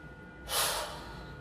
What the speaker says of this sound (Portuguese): Inspira de novo.